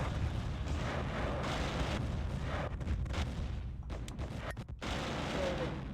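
In the Command & Conquer strategy game, a base comes under attack with dense rumbling explosions and artillery-like booms in a continuous loud barrage, broken by a few brief gaps.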